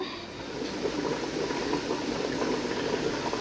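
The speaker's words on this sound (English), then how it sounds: "So as you can see, it's boiling." Pickling liquid for homemade bread and butter pickles boiling in a pot on the stove, a steady bubbling and hissing simmer at close range with no talk.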